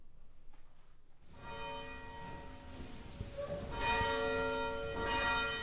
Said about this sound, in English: as bells ring to start service